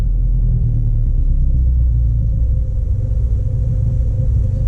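Inside a straight-piped R56 Mini Cooper S on the move, a heavy, steady low exhaust rumble drones continuously without talk.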